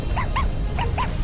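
A dog in the fighting game Guilty Gear Strive gives four short, high yelping barks in two quick pairs. The yelps ring out clearly over a low background hum.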